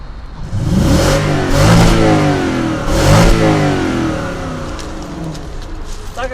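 A cold Lexus LS 460 engine, not yet warmed up, revs in repeated rising and falling surges, loud and close, then settles toward idle while someone talks over it.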